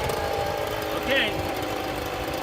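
A RYOBI gas engine runs steadily in a dense, continuous drone with a slight swell in the middle, loud and close, while a person talks over it.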